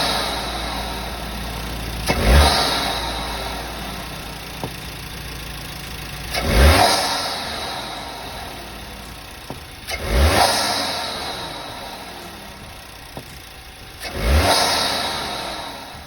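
A car fitted with a CTS Turbo cold air intake revs four times in a row, each sharp rise followed by a slow fall back toward a steady idle, close and loud with no talking.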